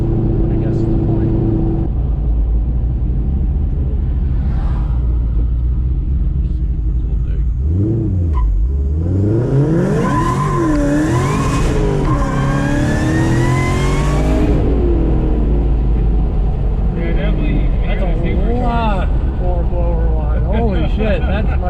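A 2007 Ford Shelby GT500 engine with cams, Kooks long-tube headers, X-pipe and stock mufflers revs up sharply in a rising, rasping exhaust note, then settles to a deep idle rumble while people talk nearby.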